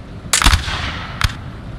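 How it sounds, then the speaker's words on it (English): Cannon fire in Napoleon: Total War during a 4v4 Napoleonic battle, a loud close cluster of booming shots followed by a single sharper blast about a second later, each with a brief rumbling tail. "Nice with the cannon support."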